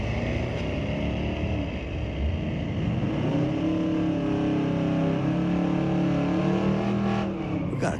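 Street-legal drag cars, including a 1968 Acadian and a 1975 Malibu, accelerate side by side at Mission Raceway Park, loud engines roaring and revving continuously with rising, shifting pitch, close and powerful throughout.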